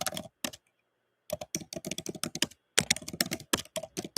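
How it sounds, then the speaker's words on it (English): Quick bursts of typing on a computer keyboard, close and crisp, arriving in clusters with a long pause near the start and then steady clattering keystrokes; no one talks. "Can you hear my typing?"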